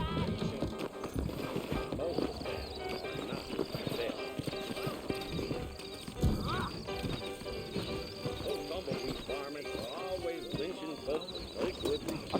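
Horses trot with rhythmic clip-clop hooves and an occasional whinny in the Red Dead Redemption video game, steady and fairly close, while characters talk over them throughout.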